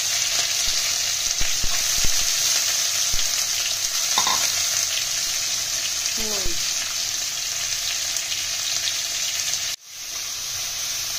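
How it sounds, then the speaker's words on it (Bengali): Onions and prawns fry in hot oil in a pan with a loud, steady sizzle, broken by a few utensil scrapes and a brief dip near the end. "আমরা পেঁয়াজ আর চিংড়ি মাছগুলো একটু ভাজা ভাজা করে নিয়েছি"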